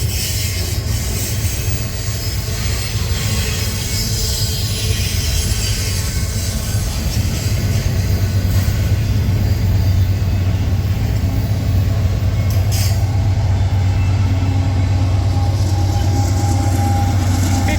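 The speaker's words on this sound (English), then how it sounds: "Got the end of the train coming up here." A long freight train rolling steadily past at close range, its last cars going by with a continuous heavy rumble, rhythmic wheel clatter and a faint metallic squeal, loud and unbroken throughout with no voices.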